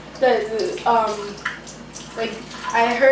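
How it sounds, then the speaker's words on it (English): Cold tap water runs over a kiwi fruit at a kitchen sink, a steady close splashing under a person speaking throughout. "I'm just gonna rinse mine in some water"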